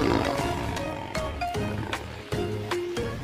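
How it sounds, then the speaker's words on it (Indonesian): A tiger roaring in several short, rough bursts that come one after another at close range, with some background noise. "Ini harimau, teman-teman."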